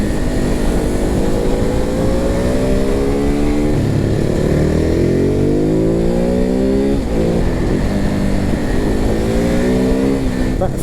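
A Ducati Hypermotard 950 supermoto accelerates hard, pitch climbing and dropping repeatedly as it shifts up through the gears, loud and close.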